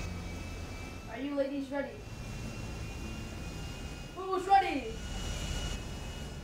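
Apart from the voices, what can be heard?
airplane engine in the video game GTA 5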